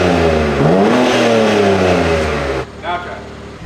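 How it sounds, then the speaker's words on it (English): A BMW G82 M4 engine revs up loudly close by, its pitch climbing and holding before dropping back toward idle. "We'll give it a little rev"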